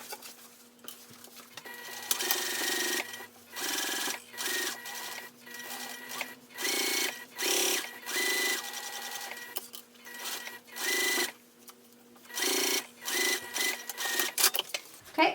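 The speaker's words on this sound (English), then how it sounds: "I'll start here at the bottom, top stitch an 1/8 of an inch away, all the way around, locking in my stitches on both sides." Sewing machine top stitching an eighth of an inch from the edge of a cosmetic pouch, running in steady loud bursts separated by short pauses, with no voice.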